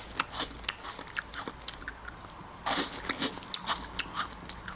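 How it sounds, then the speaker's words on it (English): A crunchy snack from a Taiwanese convenience store is bitten and chewed near the mic, with a quick irregular run of sharp crunches and no talking. "Very, very crunchy, like smooth crunchy."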